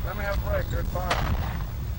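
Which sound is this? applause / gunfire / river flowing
gunfire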